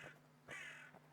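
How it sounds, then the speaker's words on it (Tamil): A crow caws twice in the survival horror video game Pumpkin Panic, a short call then a longer harsh one, faint and somewhat distant over a low steady hum. "காக்கா கத்துது."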